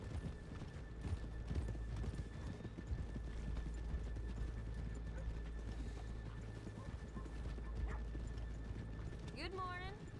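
Horse hooves clip-clop steadily in the Red Dead Redemption 2 video game, a dense rhythmic clatter over game ambience, ending with a horse's whinny near the close.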